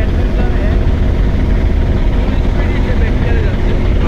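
Passenger launch Adventure 1 speeding along a river, a loud steady engine drone and rushing water roar filling the whole stretch without letup.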